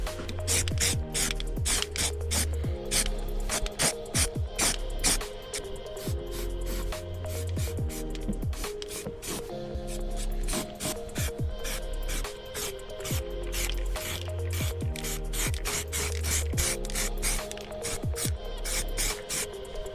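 Steady hissing spray of underbody coating on a car, layered with rhythmic mechanical clicking and thumping, continuous and close throughout.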